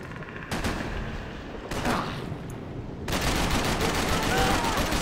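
Gunfire in the Max Payne 3 video game: dense, continuous bursts of shots that build into sustained heavy fire, loud and close throughout, with no pause.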